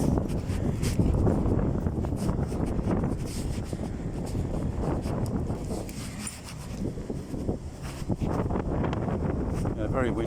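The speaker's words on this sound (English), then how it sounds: "Very windy, a bit chilly." Strong wind buffets the microphone on a cold day, with continuous rumbling gusts and crackling turbulence throughout and no clear speech.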